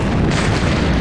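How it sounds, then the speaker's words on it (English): A big explosion in the video game Star Wars: Jedi Knight, a dense, loud, continuous rumbling blast filling the whole second without any voice over it. "I looked down by accident. I missed the big explosion"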